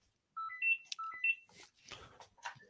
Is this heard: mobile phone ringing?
yes